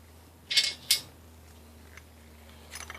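A socket ratchet loosening the outer nut on an exhaust manifold stud of a DSM engine: two quick metallic clicking bursts close together, then a short patter of faint ticks near the end, in a quiet room.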